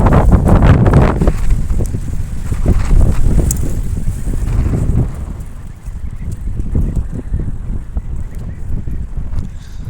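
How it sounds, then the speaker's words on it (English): Strong outdoor wind buffets the microphone in loud gusts, heaviest over the first five seconds and easing to a steadier rumble afterward, with no talk. "There's so much wind out here,"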